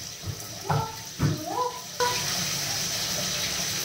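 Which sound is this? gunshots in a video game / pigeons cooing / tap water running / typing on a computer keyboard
tap water running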